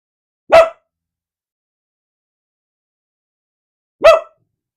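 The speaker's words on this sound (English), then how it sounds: "There's another dog outside this window over here. I hear him barking." A dog barks outside a window: two single sharp barks spaced a few seconds apart, clear and fairly close, with silence between them.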